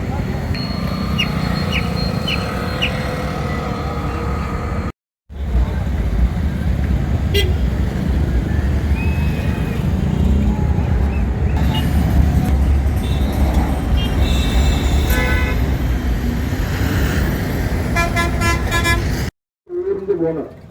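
Motorbikes and other vehicles stream along a road toward a political party conference in Madurai: engines drone in a continuous traffic rumble, broken by repeated horn toots and honks, loud and close, with voices mixed in and two brief cuts to silence.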